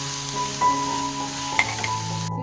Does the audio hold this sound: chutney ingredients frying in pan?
yes